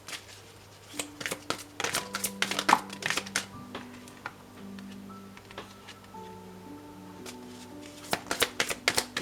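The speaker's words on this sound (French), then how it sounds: "vous allez mélanger et vous allez choisir votre carte pour les taureaux" Tarot oracle cards being shuffled by hand in bursts of crisp riffling and flicking, close and clear, with a soft tonal hum of background music running underneath.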